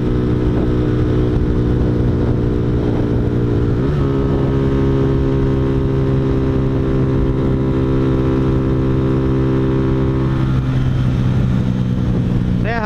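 A Honda Fan 125 motorcycle carrying a passenger accelerates along a highway, its engine note rising steadily through the gears with a loud, continuous drone and a brief shift dip, close and constant throughout.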